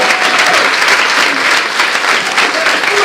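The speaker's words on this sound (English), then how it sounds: "Please, can I hear another round of applause?" Audience applause at a campaign launch event, steady dense clapping from a sizable crowd, loud and close, sustained throughout without pause.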